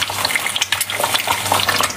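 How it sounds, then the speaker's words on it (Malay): Nasi goreng fried rice crackles and sizzles loudly in an oiled pan, a dense continuous hiss with small scattered pops and stirring scrapes, close up and without voices. "Hari ni masak nasi goreng."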